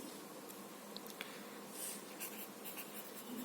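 Pen or chalk writing during a seventh-grade maths lesson on perimeter and area, heard as faint continuous scratching strokes with a few small clicks under steady background noise.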